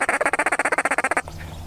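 A human voice imitates a duck with a ducky tone, producing a fast run of about fifteen evenly spaced, loud nasal quacks up close, then stopping abruptly into quiet room tone.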